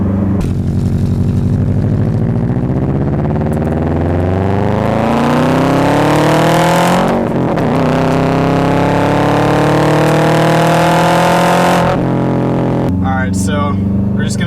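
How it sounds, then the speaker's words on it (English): A Subaru WRX Wagon engine revs hard, pitch climbing smoothly over several seconds, dropping briefly at a shift, then rising again before cutting off, loud and close from inside the car. "it sounds amazing"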